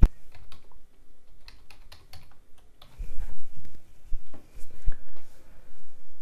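Contact details typed on a computer keyboard, with bursts of crisp close keystrokes and short pauses between them, then a busier, louder stretch of keys and handling noise.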